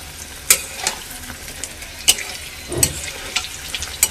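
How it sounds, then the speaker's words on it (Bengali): Pointed gourd (potol) fries in oil in a kadai, a soft steady sizzle punctuated by several crisp knocks and scrapes of a spatula turning the pieces. "এখন পটল ভাজাটা করে নিচ্ছি।"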